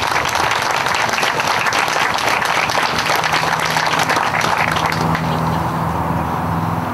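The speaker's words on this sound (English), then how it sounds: "would you all join me in giving them a round of applause?" Sustained applause from an audience at a boardwalk ribbon-cutting ceremony in Auburn, with dense, steady clapping that continues for several seconds and eases slightly near the end while a faint low hum sits underneath.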